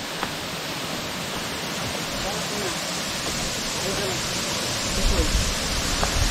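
Waterfall at Chakratirtha in Keonjhar, a dense, steady roar of falling water that fills the whole scene evenly, close and loud throughout, with a slight rise near the end.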